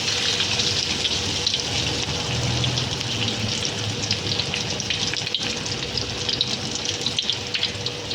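Banana blossom vada frying in oil over a slow flame, a continuous soft bubbling sizzle with a faint watery crackle, steady and close throughout.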